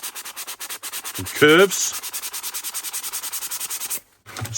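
Steady back-and-forth sanding with 240-grit sandpaper worked around a tapered wooden dowel: close, even rubbing strokes repeat throughout, with a brief voice partway and a short pause near the end.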